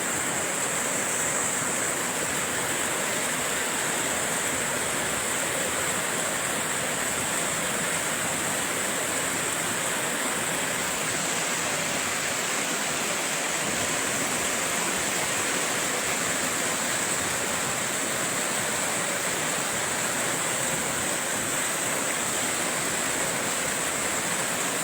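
A fast river current rushes on as a dense, loud and constant roar of water, unbroken for the whole stretch.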